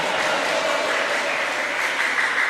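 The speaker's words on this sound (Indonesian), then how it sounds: "Tepuk tangan dong untuk Randy ya." An audience applauds a young gong player at a church gathering, a steady, dense wash of clapping that holds at an even level throughout without pause.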